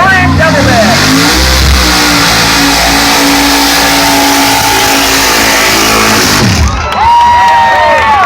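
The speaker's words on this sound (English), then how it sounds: "he was accelerating all the way through the mud pit" A tough truck accelerates hard through a mud pit at a mud bog event, its engine roaring loud and steady, then falling off as it leaves the pit, with crowd noise and an announcer talking over it.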